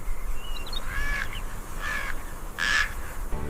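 Three harsh, crow-like caws ring out one at a time in a cold Siberian forest, each about a second apart and fairly clear against a steady low background rumble.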